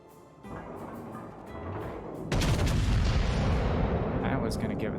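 In World of Warships, heavy battleship guns on a Tier VIII Kansas boom out in a deep rumbling salvo with booming blasts and a rolling tail, layered over game sound and background voices.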